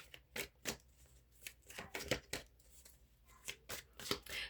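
Spiritual court reading cards are shuffled in quick, crisp riffling bursts, close and fairly quiet, repeating in an irregular rhythm with short pauses between.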